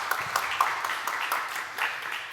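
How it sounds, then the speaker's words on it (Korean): An audience at a conference talk on data and next-generation AI trends gives a fairly soft round of applause to welcome a professor, scattered claps swelling and fading briefly. "큰 박수 부탁드리겠습니다."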